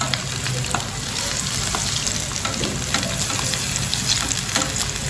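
Aloo kababs frying in oil in a pan, a dense steady sizzle with scattered crackles and pops, loud and close, continuing without pause and with no voices.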